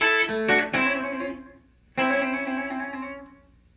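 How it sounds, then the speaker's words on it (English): An electric guitar with distortion plays a quick run of hammer-on and pull-off notes in chicken-picking style, then a held note rings out and fades after a brief gap. "we're going to actually hammer on and pull off"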